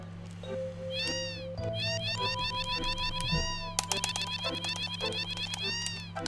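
Repeated cartoonish cat meows from Final Fantasy VII, a quick string of high mewing calls over steady game background music, growing denser and overlapping toward the end.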